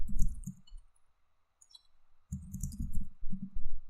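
Computer keyboard typing in two close, loud bursts of quick clacking keystrokes, separated by about a second of near silence with a few light taps.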